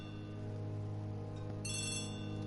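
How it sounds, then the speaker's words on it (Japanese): A telephone rings in the ABC Murders mystery adventure game, a bright electronic trill that cuts in partway through over a steady humming background, moderately loud. "電話だ。"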